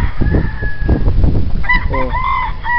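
Fighting cocks crowing nearby, one loud drawn-out cock-a-doodle-doo following clucking and scratching noises, close and clear, with a person speaking briefly underneath.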